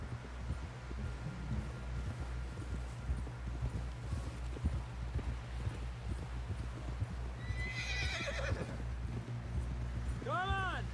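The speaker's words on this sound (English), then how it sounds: "Someone help John down off this horse." Steady clip-clop of horse hooves in Red Dead Redemption 2, a continuous trotting rhythm under low rumbling ambience, with a horse whinnying near the end.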